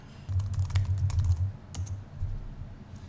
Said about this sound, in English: so we type in our website address